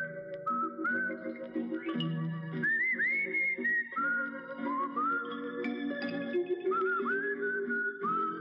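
A solo whistled melody of a famous song on a Russian TV quiz show: clear, bright, sustained tones rising and falling in phrases, with a soft murmur of background sound underneath.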